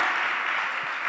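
Audience applause at a panel event, a brief burst of dense clapping heard at moderate volume without talk.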